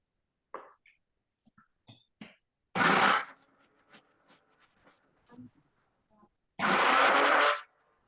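A blender blitzes a Christmas recipe mixture in two short, loud whirring bursts a few seconds apart, with quiet clinks and small kitchen noises in between.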